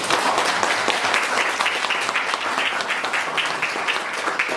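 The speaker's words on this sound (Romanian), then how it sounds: "să-i aplaudăm pentru ce au făcut" A roomful of people clapping at a volunteer gathering in a retirement home, dense, steady applause that stays loud throughout and tapers only slightly toward the end.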